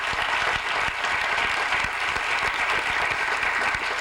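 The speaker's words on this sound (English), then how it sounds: "You can clap for all these people if you like to." Steady, dense applause from an audience at a Harvard panel event on Black and Latino politics, loud and continuous with no voices over it.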